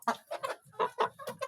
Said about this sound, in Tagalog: Kaya pala maingay yung mga manok ko.